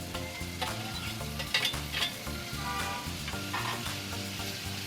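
Tomatoes and grated ginger sizzling with onions in a pan for a Kathiyawadi Gujarati ringna no olo, a steady close frying hiss with a few stirring scrapes and no talk.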